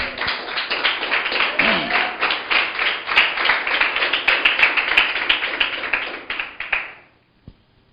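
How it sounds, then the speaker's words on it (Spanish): A church congregation claps along in a steady rhythmic beat, dense and close, with faint voices mixed beneath before the clapping stops abruptly near the end. "Aplaude al Señor."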